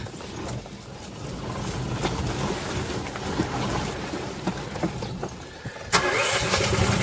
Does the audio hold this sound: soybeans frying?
no